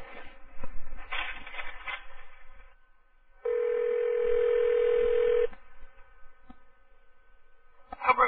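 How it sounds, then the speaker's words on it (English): Telephone line with a short burst of tones, then a steady dial tone holding for about two seconds, then a quiet stretch before another burst of dialing tones, with faint muffled talk at the start. "Who's going to dial? I need to dial?"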